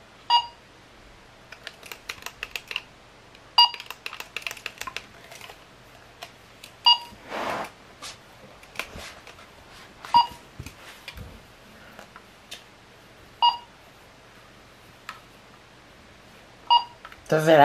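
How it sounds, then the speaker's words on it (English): An electronic gadget gives off repeated short beeps in irregular bursts, with people talking around it. "That is one annoying beep."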